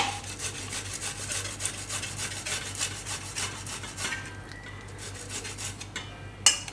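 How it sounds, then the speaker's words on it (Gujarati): Raw bananas are grated by hand in a home kitchen, making quick, rhythmic rasping strokes up close for several seconds before the scraping stops and a single sharp clink of metal sounds. "તો આપણે બધા કેળા આ રીતે છીણી લીધા"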